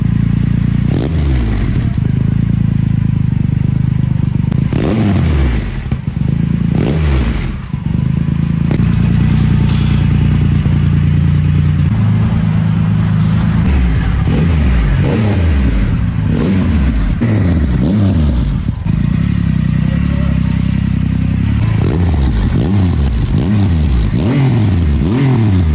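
A Triumph Rocket 3 motorcycle engine revving and accelerating, loud and close, with a deep rumbling idle between repeated rising and falling throttle sweeps and some mechanical clatter.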